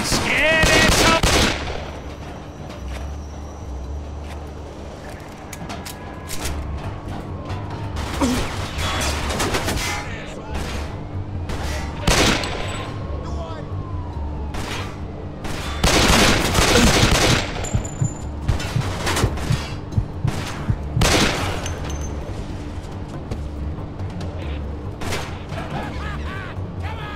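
Gunfire in Mafia II rings out in loud bursts of rapid automatic shots and single cracks, scattered across a tense firefight over a steady background rumble.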